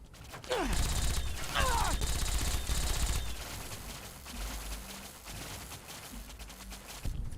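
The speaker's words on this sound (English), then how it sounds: "What is all that gunfire I'm hearing?" Gunfire from a battle in the video game Fallout: A Tale of Two Wastelands, with bursts of shots and mechanical clatter over a rumbling game soundscape. The firing is louder at first and then eases into fainter, more distant shots.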